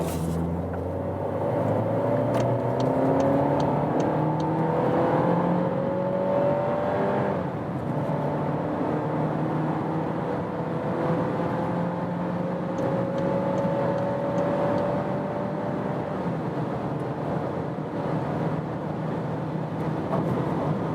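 A Volkswagen Golf Mk8's 1.5 TSI 150-horsepower petrol engine pulls steadily under acceleration to about 175 km/h, pitch climbing through several gear changes over a constant road and cabin rumble.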